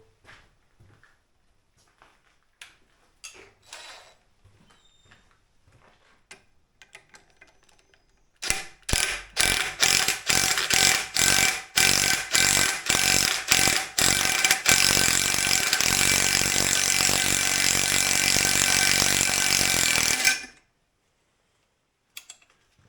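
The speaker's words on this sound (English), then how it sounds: "I'll see if I can twist it out with a power tool." Scattered light clicks and taps, then a power tool unscrewing a bolt from a 1980 Triumph TR7 cylinder head bursts into loud, rapid ratcheting hammering that settles into a continuous whir before stopping abruptly.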